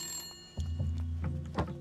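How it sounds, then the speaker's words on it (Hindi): A telephone rings in a school office, a harmonic electronic bell tone starting abruptly after half a second of faint room noise and sounding steadily, close and fairly loud, with short pulsing bursts near the end and no talk. "विधायक जी का फोन है।"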